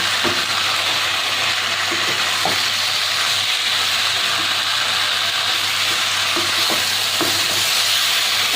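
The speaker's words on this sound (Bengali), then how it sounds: "খুব ভালোভাবে আমি ভেজে নিচ্ছি।" Steady, loud sizzling of pointed gourd and prawns frying in a pan, with occasional scraping and stirring clinks over a constant crackle.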